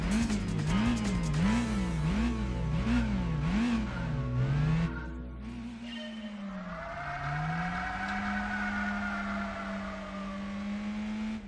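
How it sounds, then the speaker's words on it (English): Race car in Gran Turismo 4 with a looping, wavering engine note, then a shift and a rising whine as the tires spin, a loud, steady game engine with no voices. "A bit of wheel spin there"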